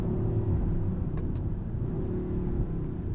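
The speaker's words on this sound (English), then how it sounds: "A few little pops and bangs," A deep, steady V8 engine rumble from a 2021 Mercedes-AMG GLE 63 S idling close by, with a couple of quick sharp exhaust pops near the middle.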